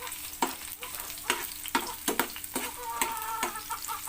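Onions frying in a pan for an ampalaya dish, with a steady sizzle broken by repeated scraping stirs at a loose, regular rhythm, close and moderately loud.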